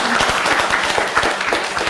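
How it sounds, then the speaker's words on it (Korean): Audience at an academic social welfare conference breaking into applause, dense clapping from many hands filling the room, loud and sustained with no talk over it. "박수 좀 쳐주세요."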